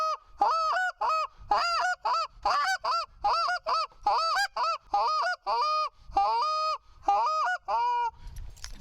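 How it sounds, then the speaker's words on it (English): A goose call works through a rapid run of clucks and drawn-out moans, about a dozen sharp honking notes in a steady rhythm, loud and close with no talking. "what it's going to sound like when you start mixing with those clucks"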